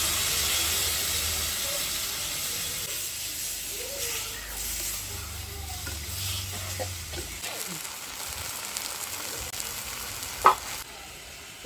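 Cumin and chili paste added alongside turmeric and potatoes fries in hot oil, giving a soft, steady sizzle with faint hissing and occasional light clinks of stirring.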